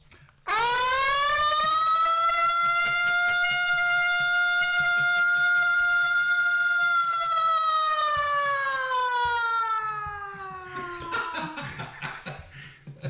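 A man imitates a siren with his voice, holding a loud, sustained tone that wails steadily, then slides downward and fades after about ten seconds, performed alone in a quiet room.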